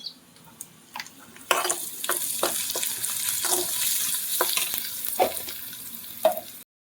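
Mutton tilli hits a hot pan with garlic-ginger paste and turmeric and fries with a loud, steady sizzle, broken by repeated stirring scrapes, then stops abruptly.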